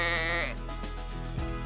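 A single sheep bleats near a calm, pristine blue lake in New Zealand's South Island, one loud wavering cry lasting about half a second, then a quieter outdoor stillness with faint rustle and a soft thump near the end.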